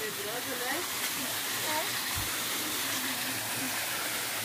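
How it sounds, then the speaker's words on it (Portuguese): A steady, loud rush of falling water from the upper section of a waterfall at the national Umbanda sanctuary in Brazil, continuous with no breaks and heard close by. "Aqui é a cachoeira."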